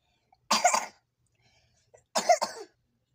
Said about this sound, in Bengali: আরে কাশি উঠতেছে